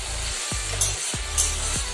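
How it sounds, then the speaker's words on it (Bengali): An egg slides into hot frying oil, giving a steady broadband sizzle with soft low thumps roughly every half second, close and alone with no talk. "আস্তে করে ডিমটাও ছেড়ে দেব।"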